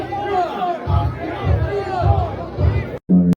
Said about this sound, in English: you don't often get the crowd reaction to something like this